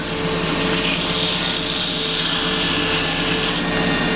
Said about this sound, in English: so that doesn't need too much sanding